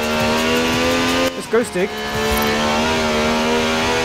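A V12 engine of over 750 horsepower in Forza Horizon 4 drones in a steady high revving tone, dips briefly, then climbs again, while someone speaks over it.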